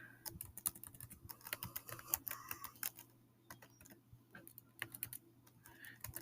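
Rapid, uneven keystrokes on a computer keyboard, close and fairly quiet, with brief pauses between bursts over a steady low hum, while someone writes a random story generator program in Python.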